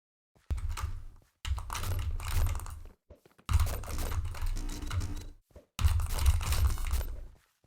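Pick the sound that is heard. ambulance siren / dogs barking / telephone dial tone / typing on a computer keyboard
typing on a computer keyboard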